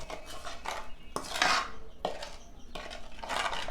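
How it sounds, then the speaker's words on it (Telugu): Spices stirred into oil in a pot for a chicken pickle, with repeated scraping and clinking of a spoon against the metal in bursts, close and steady, with no talking. "ఇవన్నీ వేసి మంచిగా నూనెలో కలుపుకోవాలి"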